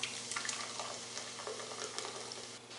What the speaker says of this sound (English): So you want to just pour all of this into another pitcher.